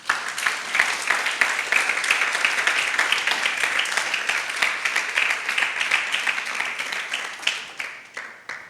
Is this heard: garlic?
no